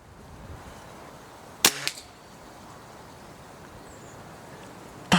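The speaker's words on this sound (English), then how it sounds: "I'm just going to stop talking and shoot again." A single sharp crack of a Weihrauch HW97 air rifle being fired outdoors at a target. It is followed by a faint impact and quiet ambient noise, with a second crack starting at the very end.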